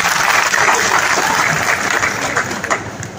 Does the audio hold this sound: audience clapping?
yes